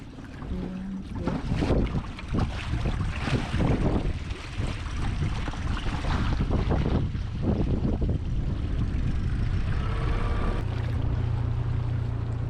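A dinghy motors across a lake in the North Channel after a windy night, its steady outboard drone mixing with gusty wind buffeting and water slap, loud and close throughout.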